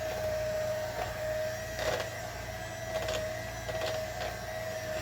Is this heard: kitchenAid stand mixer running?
yes